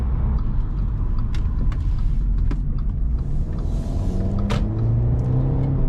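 A 2014 Audi A5 2.0T Premium Plus with about 100k miles runs at full throttle, its engine a steady, close, loud rumble under road noise with no voices.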